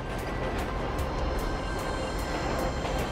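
A train rumbles past in the GTA 5 heist mission The Paleto Score, a dense, steady roar with low-end rumble and periodic clacking bursts, loud and continuous throughout with no speech.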